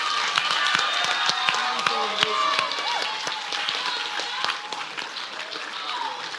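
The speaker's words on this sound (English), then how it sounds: "give one more big round of applause for our seniors" Swim team awards crowd clapping for the seniors, a sustained round of applause with sharp taps and voices chattering over it throughout.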